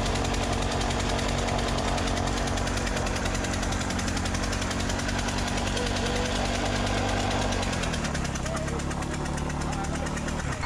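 A KTM dirt bike engine runs steadily and loudly throughout, a dense mechanical drone with a shift in pitch near the end, while voices sound faintly beneath it.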